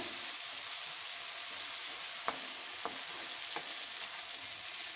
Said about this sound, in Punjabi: ਟਮਾਟਰ ਨੂੰ ਵੀ ਪਕਾ ਲਾਂਗੇ ਚੰਗੀ ਤਰ੍ਹਾਂ